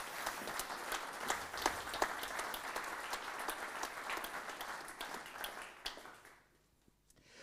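An audience applauds steadily at an artwork unveiling event, the dense clapping holding for about six seconds before fading out.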